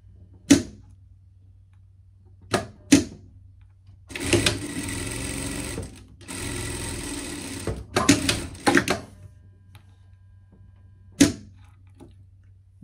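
Sewing machine stitching a pocket seam on a dress, two sustained runs of rapid mechanical stitching with short pauses, framed by sharp clicks and thumps of handling the fabric and machine.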